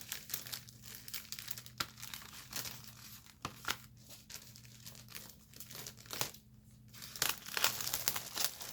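A mail-order package being opened, wrapping crinkling and tearing in repeated close bursts of crackle with short sharp rips, quiet overall and without talk.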